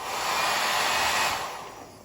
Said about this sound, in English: you can use a blow dryer, and then it comes off pretty easy